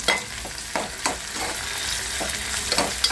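Tomatoes sizzle in a pan on top of roasted onions for a surmai masala, with a continuous close hiss and several quick scraping stir strokes, loud and without any talking.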